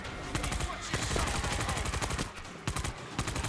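Rapid shotgun blasts from World War Z: Aftermath gameplay on PS5, a dense run of sharp, loud reports in quick succession over a constant busy combat din, with no pause between shots.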